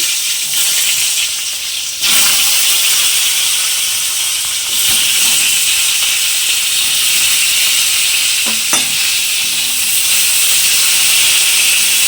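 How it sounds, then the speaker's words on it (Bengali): Pointed gourd (potol) fries in a pan with a loud, close, continuous sizzling hiss, briefly dipping near the start and marked by a couple of sharp knocks later on. "এবার আমি পটলগুলো ভেজে নেব"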